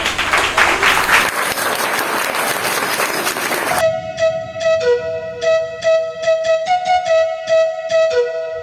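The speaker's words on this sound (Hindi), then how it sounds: "जोरदार तालियां हो जाए" An audience at a children's cultural programme at an educational centre gives loud, rapid applause for about four seconds, which then gives way to tuneful instrumental music.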